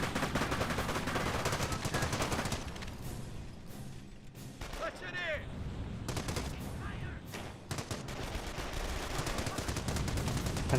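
Battlefield gunfire from an M180 gun in Company of Heroes, with dense, continuous rattling shots and distant crashes filling the scene, fairly quiet overall, with a voice speaking over parts of it.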